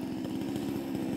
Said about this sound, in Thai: ตอนนี้เสียงเครื่องยนต์อาจจะดังนิดนึงเนี่ยนะครับ